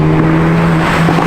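Engine note of a 2022 Hyundai Elantra N, a steady loud drone holding a constant pitch with a harsh, rasping edge, close and alone.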